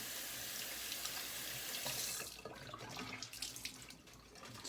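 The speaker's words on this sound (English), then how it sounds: "let's rinse with some really cold water" Cold tap water runs steadily into a bathroom sink for rinsing after a shave. A strong hiss fills the first half, then the flow softens into splashes as hands move under the stream.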